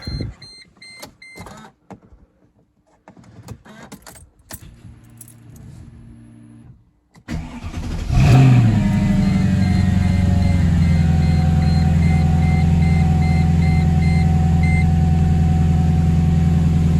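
Keys jangle and clicks, then a car engine cranks and catches, settling into a loud steady idle that continues to the end.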